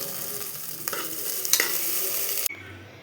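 Egg mixture for mutta thoran stirred in a hot pan, with a steady broadband sizzle and occasional scrape accents from the utensil, ending with a sudden drop to a quieter low hum.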